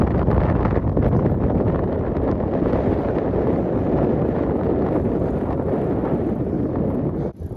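Heavy wind noise batters the microphone while bikepacking through open Illinois countryside, a loud continuous low roar with gusty fluctuations and no speech.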